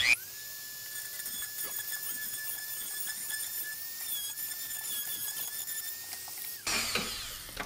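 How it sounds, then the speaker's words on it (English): Tiny ball burr drilling out a rivet on a power antenna from a 1987 Buick Grand National, a thin, steady high whine held for several seconds, close and fairly quiet, then cutting off into a brief scrape. "It appears to be cutting the rivet nicely."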